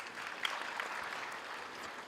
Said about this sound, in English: I would like to give that set a round of applause.